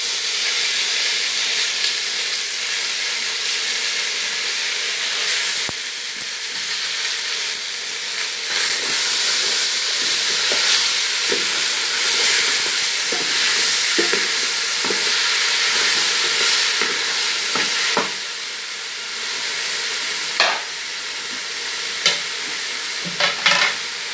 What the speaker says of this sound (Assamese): মচুৰ দাইলকেইটা দি দিলোঁ ভাজি